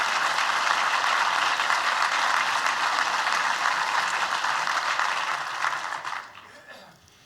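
Dense audience applause after a call to honor people at a government infrastructure and transportation address, loud and steady for about six seconds before thinning out and fading near the end.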